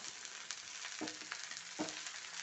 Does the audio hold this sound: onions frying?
yes